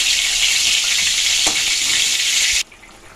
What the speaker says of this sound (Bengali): আমি তিন চার মিনিট ভেজেছি তারপরে এটা তুলে নেব